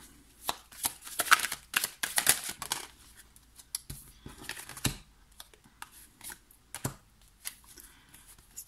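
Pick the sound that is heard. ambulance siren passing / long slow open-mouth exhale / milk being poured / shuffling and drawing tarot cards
shuffling and drawing tarot cards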